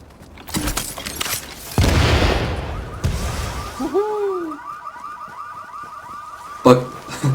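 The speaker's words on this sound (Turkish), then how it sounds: "Alarmları da çalıştırdık." A car alarm from the video game Tom Clancy's The Division whoops and chirps in a repeating pattern after crashes and bangs, mid-distance, with talk nearby.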